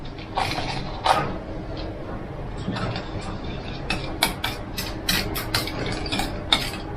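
Spatula stirring a bamboo shoot stir-fry with minced pork and holy basil in a pan after sugar goes in, giving soft scraping and clinks with sharper metallic ticks toward the end, steady and close, no voices.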